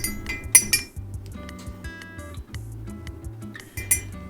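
Light glassy clinks from a measuring cup scooping out a quarter cup of dry, floss-like dehydrated pork, several sharp taps scattered over a low background hum, with no talking.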